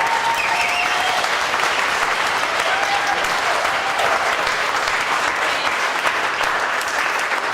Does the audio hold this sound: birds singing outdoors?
no